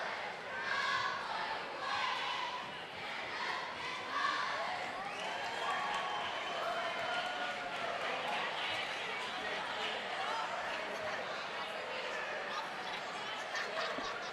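Spectators in the stands at a high school girls' basketball game cheer and shout during a timeout, a loud, continuous crowd roar with chatter and voices mixed in.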